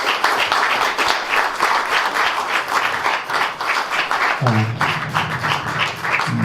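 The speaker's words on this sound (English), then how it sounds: "So let's have a round of applause for Lernik." An audience claps steadily in sustained applause for several seconds, then a voice begins speaking over the tail end of the clapping.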